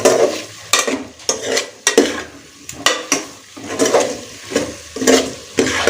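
Fried chicken is stirred into biryani masala in a cooking pot, with rhythmic scraping strokes about every half second and a soft sizzle between them, close and clear.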